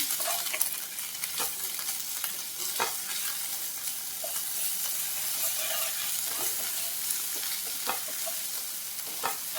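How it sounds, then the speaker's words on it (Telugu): Cabbage Manchurian mixture with ginger garlic paste being stirred and tossed while it sizzles, with scattered sharp scrapes and clicks over a steady frying hiss. "ఇవన్నీ వేసుకొని బాగా మిక్స్ చేసుకోవాలండి"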